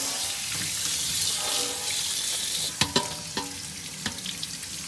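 Tap water runs steadily into a sink strainer of corn being rinsed, a broad continuous splash with a few sharp clanks and knocks of the strainer toward the end.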